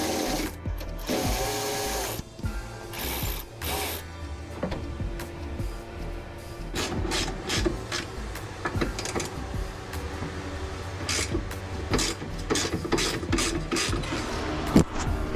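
A ratchet loosening sway bar bracket bolts under a 2012-2015 Civic Si, with bursts of rapid clicking and metallic clanks and pauses between them, close by.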